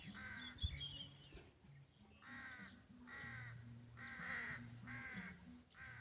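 A crow caws loudly in a rhythmic run of about five harsh calls, fairly close and evenly spaced, over a low background hum.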